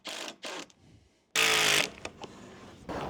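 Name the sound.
driving 70mm screws into wooden gate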